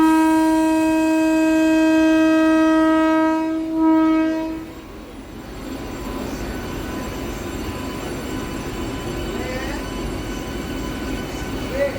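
A MEMU train horn sounds loud and close in one long steady blast for about four seconds, then cuts off, leaving the rumble of the moving train.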